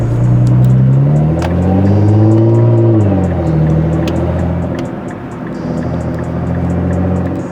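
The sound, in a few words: Nissan GT-R R35 exhaust pops and bangs tune revving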